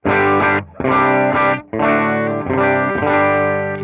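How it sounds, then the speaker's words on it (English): Clean electric guitar chords strummed through an amp, a solid amp on channel 1, in a few short, rhythmic bursts with brief gaps between them. "here is my clean tone."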